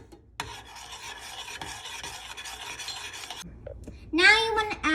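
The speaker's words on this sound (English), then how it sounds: "You have to use a spoon or just whatever you like to mix it." A spoon stirs mango jam cooking in a pot over the fire with sugar: a steady, continuous scraping and rasping close up for several seconds, then a brief pause before a louder, harsher clatter near the end, with no voices.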